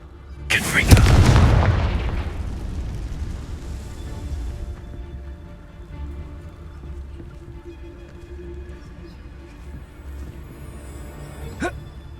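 The Confringo explosion spell in the video game Hogwarts Legacy sets off a sudden, loud, deep boom that rumbles away over a few seconds. Quiet ambience and a faint later whoosh follow.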